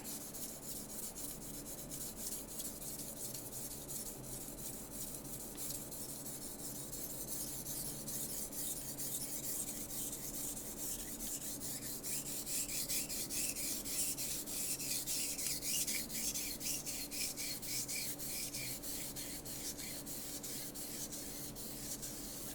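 An old Wusthof knife is drawn steadily across a sharpening stone in continuous rasping strokes, a close, even grinding that holds for the whole stretch with no voice.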